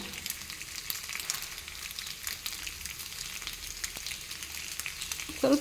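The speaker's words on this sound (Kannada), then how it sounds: "ಇದನ್ನೇ ಸ್ವಲ್ಪ ಎರಡು ಸೈಡ್ ಕಾಯಿಸ್ಕೊಳ್ಳೋದು. ಸ್ವಲ್ಪ ಇದರ ಮೇಲೆಗೂ ಎಣ್ಣೆ ಬಿಡ್ತಾ ಇದ್ದೇನೆ." Pieces of pathrode fry in oil in a pan, turned to cook on both sides with a little more oil drizzled over the top, giving a steady close sizzle with a brief clatter at the very end.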